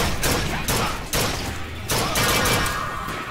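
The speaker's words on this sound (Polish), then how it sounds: "Bardzo przyjemnie strzela się z tego karabinu" Rifle fire in the video game BioShock Infinite: several heavy, booming shots land in quick succession, each a broad loud blast with short gaps between them.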